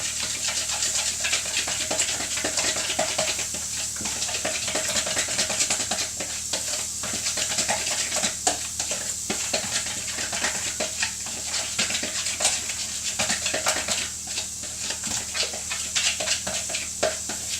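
Stirring ingredients in a pan while cooking a slimming-friendly creamy pasta, a steady hiss and sizzle with repeated soft scraping and clinking strokes, close and continuous, with no talking.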